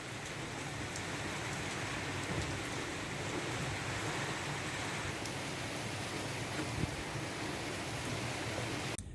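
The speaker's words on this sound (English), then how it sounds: "winds have picked up a little bit here" Wind and rain from Hurricane Elsa batter a sailboat, a steady, dense broadband rush of rain and gusting wind that holds constant and close throughout with no voices.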